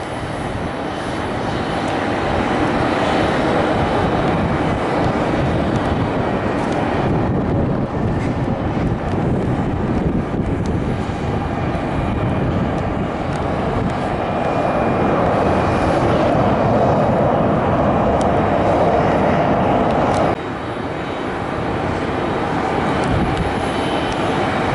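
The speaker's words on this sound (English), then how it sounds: "A321neo out of Charlotte." An American Airlines Airbus A321neo airliner passes near an airport, its loud, steady engine roar sustained throughout with wind buffeting the microphone and a slight dip in intensity near the end.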